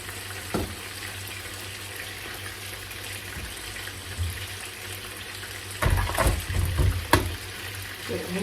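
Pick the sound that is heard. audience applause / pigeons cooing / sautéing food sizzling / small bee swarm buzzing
sautéing food sizzling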